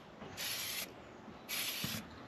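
Two short bursts of aerosol spray put a light coat of sublimation glaze coating onto a chef knife, each hiss lasting about half a second with a pause between, close and steady.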